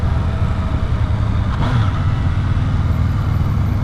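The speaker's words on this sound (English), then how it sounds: "I'm going to downshift" Yamaha FZ-09 (MT-09) motorcycle engine running steadily while downshifting on a ride, a continuous loud low drone with a brief rise around the middle, no talk over it.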